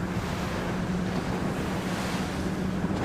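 Strong wind of around 17 to 18 knots with breaking waves at sea during a 52 Super Series yacht race week off Palma, a loud continuous roar of gusts and surf with wind buffeting the microphone.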